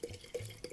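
Citrus pieces drop into a half-filled glass jar of tequila, making three small wet plops with short gaps between them, close and soft, and no one talks.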